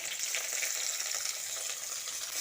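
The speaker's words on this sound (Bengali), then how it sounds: "পেঁয়াজটা দিয়ে তেলের সঙ্গে কিছুক্ষণ নেড়ে চেড়ে নিয়ে ভেজে নিতে হবে" Chopped onion frying in hot oil with nigella seeds and dried red chilies gives a steady, dense sizzle that holds close and loud the whole way through, with no voices.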